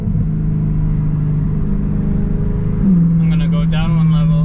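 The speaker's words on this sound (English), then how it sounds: "So this is a downshift with all the bars" A BMW M3 with a DCT gearbox and loud exhaust drones steadily inside a tunnel, then its pitch steps up sharply as it downshifts. Someone talks over the engine.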